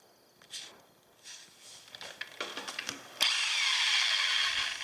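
A Porter Cable Restorer power tool strips epoxy and wood glue from wood, first in short bursts and scrapes, then running continuously and loud in a steady grinding roar.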